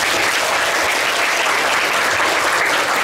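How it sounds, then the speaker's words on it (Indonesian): An indoor madrasah audience applauds Pak Amin with sustained, even clapping from many people that fills the room without a break. "sekali lagi aplaus untuk Pak Amin"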